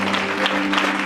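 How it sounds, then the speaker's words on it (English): A church congregation at a Sunday service claps hands together in a dense, steady patter, with a sustained organ-like hum underneath. "Let's clap our hands for Jesus."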